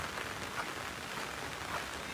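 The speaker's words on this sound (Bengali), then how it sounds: "এই বৃষ্টি তুফানের দিনে খালি গম পাড়া ছাড়া আর তো কিছু করার নাই" Heavy rain from a rainstorm pours down in an even, dense hiss that holds steady and fills the whole moment, with no voices.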